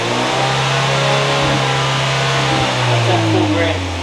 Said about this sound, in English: There's more engine noise than exhaust note